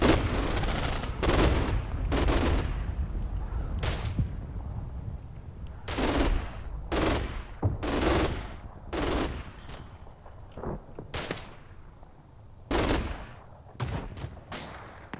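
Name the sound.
MG42 machine gun fire in video game Combat Mission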